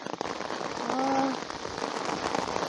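Steady rain patters densely on a surface nearby on a riverbank, a constant hiss of drops with a brief faint tone rising out of it.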